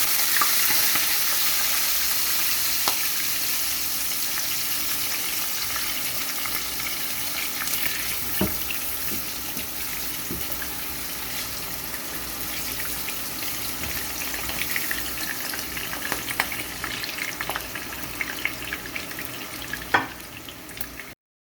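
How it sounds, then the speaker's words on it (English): Eggplant frying in hot oil in a pan for Arabic maqluba, a steady close sizzle and crackle with occasional stirring clinks, continuous and without talk. "After we fry the potato, we're gonna fry the eggplant."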